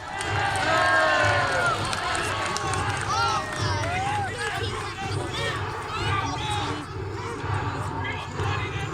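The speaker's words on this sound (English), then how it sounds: "Ladies and gentlemen, a cheer for the reformer Simon de Montfort" A crowd cheers loudly at a battle event at Kenilworth Castle, with a sustained roar of voices and excited shouts rising and falling across the whole stretch.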